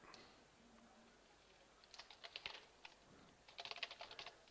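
Quiet typing on a computer keyboard, a few scattered keystrokes followed by two quick bursts of rapid clicks, close by and faint, with no voices.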